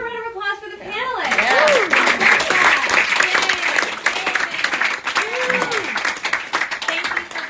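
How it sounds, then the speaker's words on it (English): A crowd claps for the panelists at a live art opening reception. Voices talk briefly at the start, then sustained, crisp applause follows with chatter mixed in. "let's give a round of applause for the panelists"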